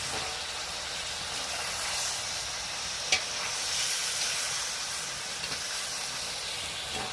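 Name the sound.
pork meat frying in a pan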